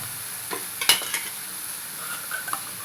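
Two large chopped onions tossed into a hot pan for kattina saaru, giving a close sizzle with a few sharp clinks and scrapes of stirring, then a lighter continuous hiss.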